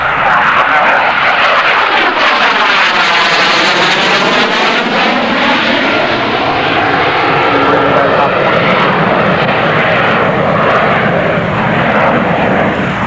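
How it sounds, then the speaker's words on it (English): A Harrier GR7 jet makes a fast, loud pass at the Middle Wallop air show, its roar sweeping and shifting pitch steadily throughout, with a commentator talking over it. "The Harrier GR7"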